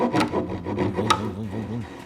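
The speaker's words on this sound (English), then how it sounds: "I'm gonna relieve it with my handsaw" A small Temple Tools handsaw relieves a pocket in wood for a handmade desk, producing a quick series of close, raspy back-and-forth strokes over about two seconds.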